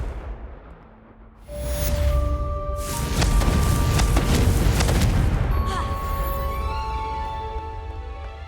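The Confringo blasting spell goes off in Hogwarts Legacy as a loud, booming explosion that swells abruptly after a brief quiet and rumbles on with ringing magical tones before slowly fading.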